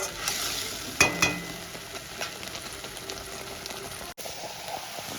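Tomato and ginger fry in a pan with a steady moderate sizzle, punctuated by a few sharp spatula scrapes and knocks from stirring early on, heard close with no speech.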